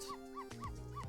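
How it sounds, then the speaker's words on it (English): A dog in the video game Ghost Trick: Phantom Detective barks at a rat, four short, evenly spaced yips with a faint game tone under them, quiet and close. "Or barks at rat."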